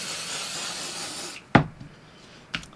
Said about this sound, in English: I'm going to go ahead and just give it a light spray